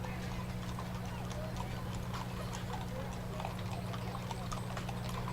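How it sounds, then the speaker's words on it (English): Many horses with riders in a Memorial Day parade in Ironton, Lawrence County, hooves clip-clopping in a continuous overlapping patter on pavement, steady and mid-distance over a low hum, with people talking underneath. "Lots of riders on horses in this year's parade."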